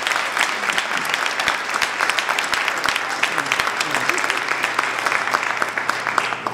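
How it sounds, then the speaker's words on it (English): Steady, dense applause from an awards-ceremony audience honoring sponsors, continuous and fairly loud throughout, with occasional sharper claps standing out near the front. "if we have a round of applause for our sponsors,"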